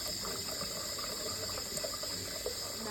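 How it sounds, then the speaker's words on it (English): Tap water runs steadily into a pot of kidney beans, filling it halfway for a Jamaican stew chicken with rice and peas, a continuous close hiss with no talk. "So now we're gonna add water to our kidney beans."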